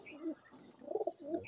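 Pigeons kept in a loft at a house in Lahore: soft, low, rounded coos in a few short bursts, faint and close, with no voices.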